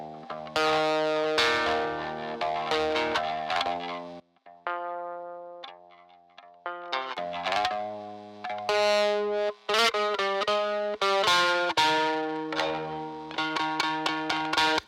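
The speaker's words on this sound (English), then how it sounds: "Now that sounds pretty nasty by itself with just the distortion." A heavily distorted bass guitar plays a gritty, buzzing riff of sustained notes with brief pauses, loud and upfront.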